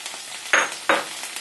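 Ginger and jalapenos sizzle in a hot frying pan, a soft steady hiss broken by two brief louder bursts, close by and without speech.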